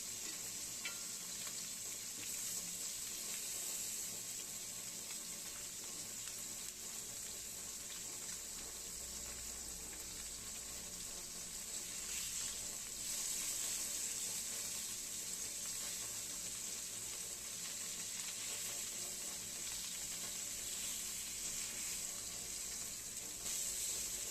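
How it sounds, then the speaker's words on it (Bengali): Dense, even hiss of pomfret-like parshe fish frying one by one in hot oil, a constant bright crackle lasting throughout with no voices. "এরপর গরম তেলে এক এক করে মাছগুলো ভাজার জন্য দিয়ে দেব"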